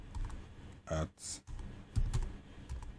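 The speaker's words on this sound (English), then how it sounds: "you can type any password" A password is typed on a computer keyboard, producing a quick run of light key clicks near the mic while someone speaks briefly over them.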